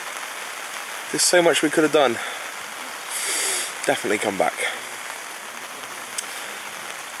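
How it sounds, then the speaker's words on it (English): Steady rain patters on a tent close by at a campsite, a continuous hiss that runs under a person talking quietly. "It has not stopped raining for hours and hours."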